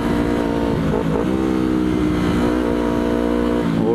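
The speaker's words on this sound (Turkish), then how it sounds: "Motorun egzozunun sıcak havada daha çok patladığını fark ettim." Yamaha R25 motorcycle engine running hot in traffic, its exhaust revving with steady harmonic drone and rising pitch sweeps, close and loud throughout, with occasional pops.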